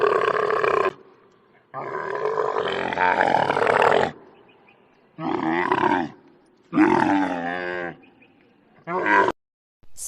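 A camel gives a series of deep, rough grunting groans in about five loud bursts with short silent gaps between them, close to the listener and with no other sound.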